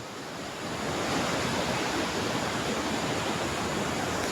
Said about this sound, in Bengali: ড্যাম থেকে কিভাবে জল পড়ছে দেখো, জলের আওয়াজ তো শুনতেই পাচ্ছ